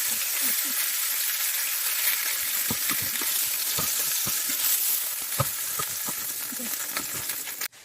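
Lamb chunks fry in a pan with a loud, continuous sizzle and crackle, broken by scattered pops and scraping sounds as the meat is moved around.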